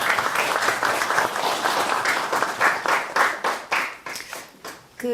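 An audience at a youth startup center's year-end results event claps for the startup support team, a full, steady burst of applause from a crowd that thins and tapers near the end.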